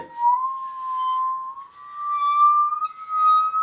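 A sustained, gliding musical saw tone holds two pitches at once, slowly bending upward with a wavering, glassy shimmer and faint breaths of bowing noise.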